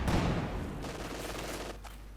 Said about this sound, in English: Machine guns and main guns flying here once more